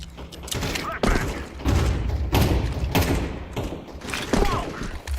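A flashbang ability goes off in Valorant, one of several heavy thuds and bursts spaced through a busy, loud stretch of game sound.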